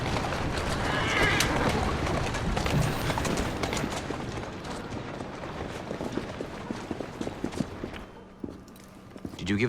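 Horses in the Assassin's Creed Syndicate video game neigh and clatter their hooves amid dense, busy game sound, with the hoofbeats growing more distinct as clip-clops toward the end, and a voice talking over the scene.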